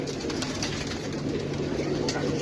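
Pigeons coo steadily in a close, busy setting, their low murmuring calls layered over constant background noise.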